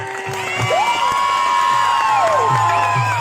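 A village audience at an outdoor drama and song event claps and cheers loudly, with a raised voice and music-like tones over the crowd.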